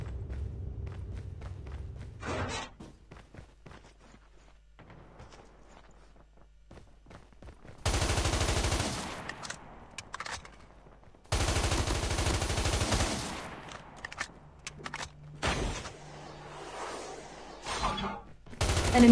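AK-117 assault rifle fire in the Call of Duty Mobile battle royale, heard as several sustained automatic bursts that crackle loudly between quieter stretches of in-game footsteps and thuds.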